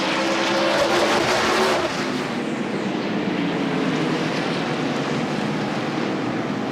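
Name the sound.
NASCAR race cars racing at North Wilkesboro Speedway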